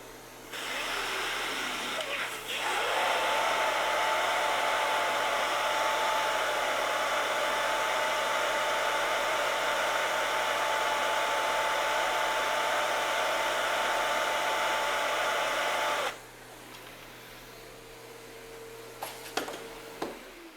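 A shop vac pulling air through a 20-foot hose gives a loud, steady high whine and rush. It starts after a short lower hum, holds evenly for most of the run, then drops sharply to a quieter hum.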